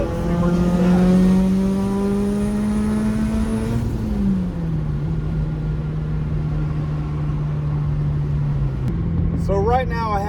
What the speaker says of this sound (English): I'm gonna drop it down in third and give her the beans a little bit, see where she's at.